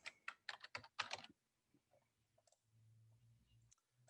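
Brisk typing on a computer keyboard, a quick cluster of sharp, close key clicks at the start followed by a few sparse taps over a quiet low hum.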